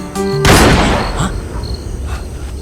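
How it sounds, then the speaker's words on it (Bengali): A single loud gunshot cracks near the start and decays into a ringing tail, following a brief electronic tone, with faint background hum afterward. "এটা শিওর গুলির শব্দ"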